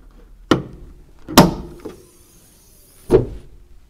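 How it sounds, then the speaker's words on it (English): Bonnet of a 2021 Mercedes G500 with a V8 petrol engine being opened: a latch click, a sharp thunk, a softer knock, then a final clunk, each close and distinct against near silence. "So let's have a look at what is under the bonnet."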